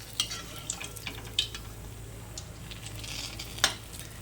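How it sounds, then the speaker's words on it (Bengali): Mango poya pithe frying in oil give a faint, steady sizzle, with a few soft clinks and stirring taps from the pan scattered through it. "আস্তে আস্তে জাল দিয়ে ভালো করে ভেজে নেব।"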